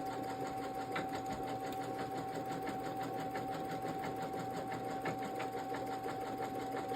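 A Brother Innovis Quattro 3 NV6750D embroidery machine stitches out polyester thread in a metal magnetic hoop, giving a continuous rapid mechanical chatter and steady hum throughout at moderate level.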